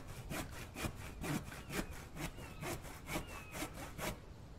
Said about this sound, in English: Start sawing.